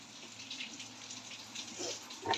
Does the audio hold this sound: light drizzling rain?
yes